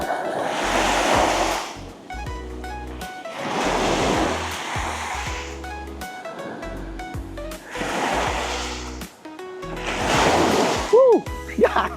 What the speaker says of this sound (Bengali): কি বড় বড় ঢেউ।